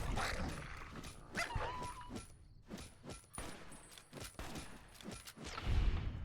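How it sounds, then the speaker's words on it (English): A dog in Fallout: New Vegas being attacked, with short yips and whimpers mixed among sharp impact and combat noises, bursts scattered across the clip and a heavier thud near the end. "We then put the driver to good use by bashing Violet and her dog's heads in"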